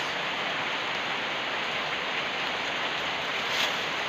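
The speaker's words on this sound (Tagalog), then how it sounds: "Maulan na dito" Steady rain falls in bad weather, a dense even hiss at constant loudness with no pauses or voices.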